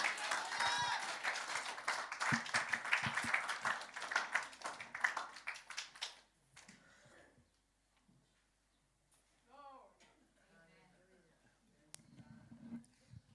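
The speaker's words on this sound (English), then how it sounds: "Give a clap for Jesus." A church congregation at a Sunday morning service claps together, fairly loud and dense for several seconds, then fades into quiet with scattered faint sounds and brief voices afterward.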